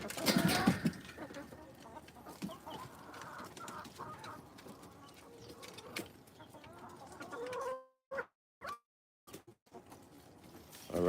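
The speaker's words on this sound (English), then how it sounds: "so that is the flock. Everyone is out of the coop." Chickens of a backyard flock cluck and call steadily outside their coop, a busy overlapping chorus close by, briefly interrupted by a few sharp gaps near the end.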